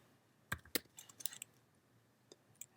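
A reboot command typed on a computer keyboard: a few sharp, close key clicks in two short bursts, then a couple of isolated taps over a quiet background.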